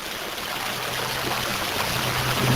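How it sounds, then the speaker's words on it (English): Water running out of drain holes inside an underground stormwater drain, a steady rushing trickle that fills the space continuously and stays fairly close, with no talking over it. "we're just sort of cleaning them out and watching all the water come out"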